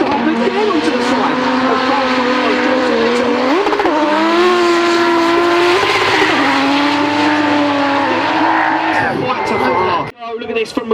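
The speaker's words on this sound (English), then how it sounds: "Oh, look at this from Maguire, already smoking the tyres." A drift car at a British Drift Championship round at 3 Sisters circuit screams at high revs, its tyres squealing and smoking under a steady loud engine wail, with commentators talking over it before it cuts out near the end.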